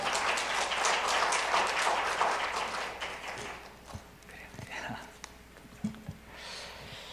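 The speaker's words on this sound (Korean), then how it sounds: "박수로 환영하겠습니다." A church congregation applauds to welcome a missionary at a night prayer meeting: dense clapping for about three seconds, then fading as speech and scattered sounds take over.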